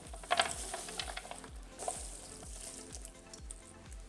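Syrian harrak osbao being stirred in olive oil in a pan: a steady frying sizzle with rhythmic scraping turns about twice a second, close and continuous.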